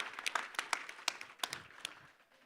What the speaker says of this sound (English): A round of applause for Tyler Amaro and Hot Takes